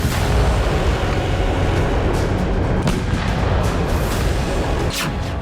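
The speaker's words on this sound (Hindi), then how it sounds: "पहली बार क्रेमलिन में कोई विस्फोट हुआ है।" A blast from a drone attack on the Kremlin is heard amid a loud, rumbling barrage of booms and sharp cracks, with several distinct hits over a dense, sustained roar.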